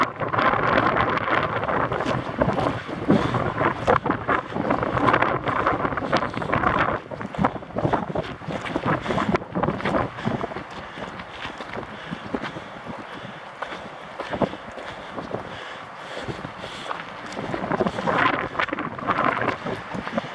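Strong wind on a mountain hike near a lake in Shirley Canyon, Olympic Valley, roaring and buffeting the microphone in steady gusts for the whole stretch, easing briefly in the middle, loud with no talk.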